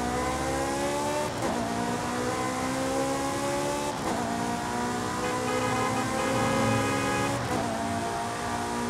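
A Ferrari F430 Scuderia with an aftermarket intake and exhaust races in Forza Horizon 5, its engine howling up through the revs with quick gear shifts roughly every three seconds, loud and continuous without speech.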